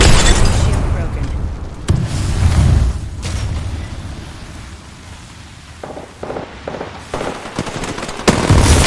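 A grenade detonates in the battle-royale shooter Apex Legends amid sharp bursts of gunfire and booming impacts, loud and close, with a player talking over the action.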